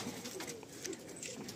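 Pigeons cooing softly in a loft, faint low coos over a quiet background.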